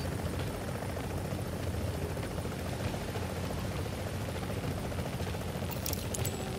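Helicopter rotor and engine noise from The Division video game, a continuous loud whirring drone that fills the scene steadily with no talk over it.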